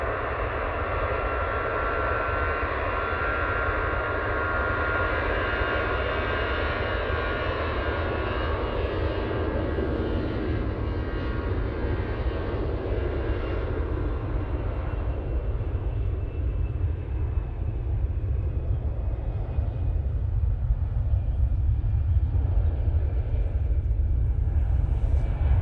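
At Manchester Airport, a fixed-wing airliner takes off down the runway, a broad, continuous engine roar with deep rumble. It is heard from a distance and holds steady for the whole stretch, with no talk.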